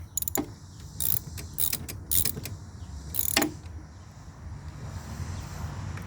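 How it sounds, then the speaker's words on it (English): A ratchet tightening bolts on a Kubota mower deck during a belt change, bursts of rapid metallic clicking in short bursts close by, fading to quiet background noise at the end. "Make sure to switch your ratchet over."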